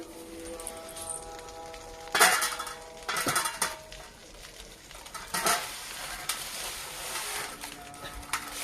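Cauliflower and fish wrapped in leaves fry in a pan, giving a steady sizzle broken by a few louder clatters of a utensil against the pan, up close and with no talk.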